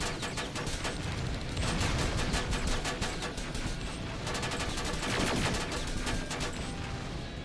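An automated turret firing in the shooter game Terminator Resistance, a sustained rapid stream of gunshots rattling on steadily, moderately loud, with no talking.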